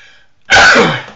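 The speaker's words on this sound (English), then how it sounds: "I'm about to sneeze." A single loud, close human sneeze bursts out sharply after a brief faint intake of breath, then tails off quickly.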